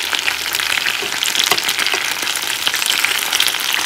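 Chicken pieces fry vigorously in a pan, a loud, close, continuous sizzle with crackling pops throughout.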